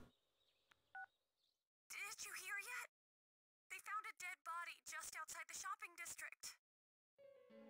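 Cell phone in the video game Persona 4 sounds short electronic beeps at the start, then characters speak in bursts with a brief tonal chime at the end.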